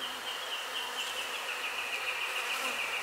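Honeybees buzz around an open hive frame of brood, a dense, steady drone close to the microphone with a sustained high hum and no voices.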